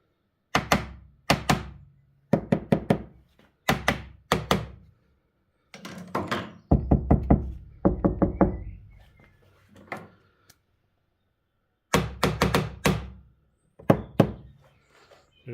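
Knocks on the bare steel door of a Mk1 Escort with no sound deadening, clusters of hollow resonant thumps in short bursts with pauses between, fairly close.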